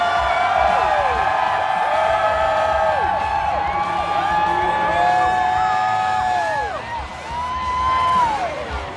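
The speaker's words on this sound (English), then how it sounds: "The crowd that was waiting around to get the beer inside the pumpkin was pretty crazy." A dense, loud crowd shouts, whoops and cheers continuously at an evening beer festival as a giant pumpkin filled with beer is tapped, with whistle-like rising voices over the roar and a brief dip before the cheering swells again.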